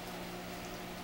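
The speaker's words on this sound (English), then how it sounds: "I'm gonna pour a little bit in there. That's called deglazing" A splash of liquid poured into a hot pan to deglaze it, giving a steady, close hiss and bubbling sizzle that carries evenly through the brief moment.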